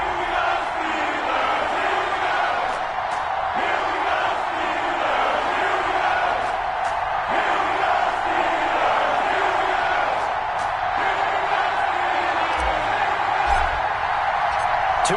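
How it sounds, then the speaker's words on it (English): A loud, steady stadium crowd roar fills an EA Sports NFL football video game matchup between the Arizona Cardinals and Pittsburgh Steelers, a continuous cheering wash with faint commentary blended in. "This crowd is ready as their guys get set to match up between the Arizona Cardinals and the Pittsburgh Steelers."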